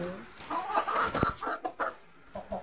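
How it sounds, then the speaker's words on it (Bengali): Chickens on a rooftop cluck in short, irregular bursts close by, with a brief louder squawk partway through. "আর এই দেখো আমার মুরগি"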